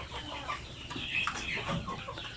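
A flock of broiler chickens raised for meat on a farm clucks and murmurs continuously at moderate volume, the soft calls overlapping with no pause.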